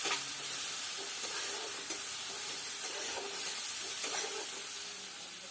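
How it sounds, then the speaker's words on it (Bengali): A prawn curry sautés in a pan with a paste of chilli powder and turmeric mixed in water, giving a steady, close hiss of sizzling with faint stirring scrapes throughout. "এবার দিয়ে দেবো লঙ্কা গুঁড়ো আর হলুদ গুঁড়ো, জলে মিশিয়ে রেখেছিলাম সেটা। সব ভালো করে একসঙ্গে কষতে নেব।"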